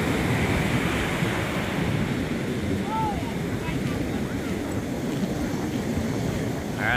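Ocean waves wash steadily onto a beach in a continuous broad roar with wind noise on the microphone, a family outing where voices are faintly present.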